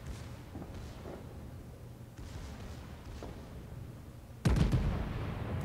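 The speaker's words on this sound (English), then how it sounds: "Another shot out." Battleship Bayern's main guns firing in World of Warships, distant booms rolling early on, then a loud, heavy close salvo near the end that lingers as a rumble.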